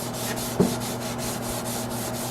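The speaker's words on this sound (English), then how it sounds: "Scotch-Brite it" A Scotch-Brite pad scrubs aluminum cam covers in a continuous close rasp with faint rhythmic strokes and one brief knock early on.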